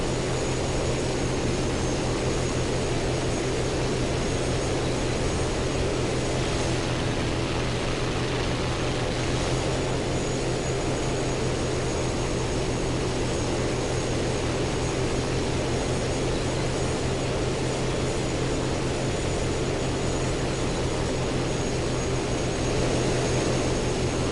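Bomber engines in the War Thunder video game drone in a loud, unbroken roar with a steady low hum, continuous throughout with no breaks or talking.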